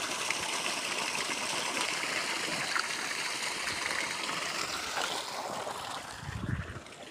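Water gushes hard from the 2.5-inch outlet of a well pump motor rated to push water a kilometre, a loud, steady, broadband rush with no break and no voices.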